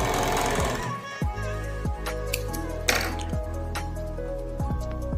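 A sewing machine stitching an overlock stitch and a china picot stitch runs continuously and close by, a dense mechanical whirr with rapid needle clatter and a few small clinks along the way.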